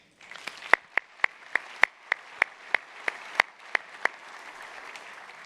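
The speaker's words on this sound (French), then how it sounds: "Mesdames et Messieurs, mérite d'être applaudie." Audience at a formal opening ceremony giving sparse applause: about a dozen distinct, evenly spaced claps over a soft background hum, fading out after a few seconds.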